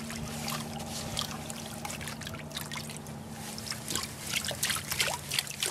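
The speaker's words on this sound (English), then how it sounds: "the last pan of the oversize of Greg and Michelle's material." In gold panning, oversize material gets washed in a pan of water, giving continuous close trickling and sloshing with gravel rattling against the pan, loudest toward the end.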